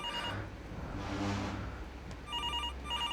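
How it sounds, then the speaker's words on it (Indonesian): A telephone rings at a hotel reception desk during a night shift, giving repeated electronic trills in short bursts. The ringing is moderately loud against a quiet room, with a soft rushing noise in the middle. "Oke, bentar, ada telepon."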